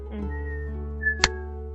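A voice imitates the high whistle of a falling bomb with a brief, thin descending tone, followed by a sharp short burst, heard close against a steady low hum.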